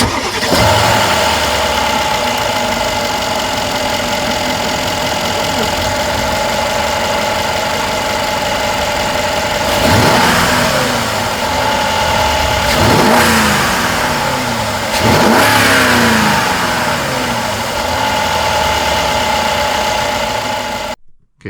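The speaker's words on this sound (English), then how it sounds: "I'll start it up for you, so you can hear it from this angle" A Mercedes CL500 4.7 V8 engine starts and runs loudly close by, with several sharp revs that rise and fall over a steady rumbling idle.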